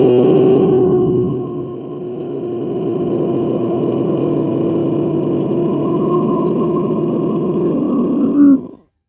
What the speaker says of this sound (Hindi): ओशियन साउंड जिसको बोलते हैं, ओशियन साउंड प्रोड्यूस होती है